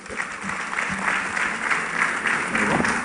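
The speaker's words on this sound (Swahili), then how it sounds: "Tumpigie makofi." Applause from the audience at a funeral service, a dense, steady patter of clapping hands that carries on through the whole moment with no pause.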